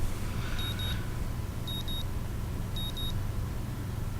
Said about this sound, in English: The sound of my alarm brings me out of a dream